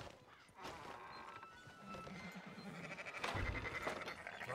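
Sheep bleat in the open-world western game Red Dead Redemption II, several wavering bleats layered over soft ambient farm noise, moderately near and building slightly toward the end.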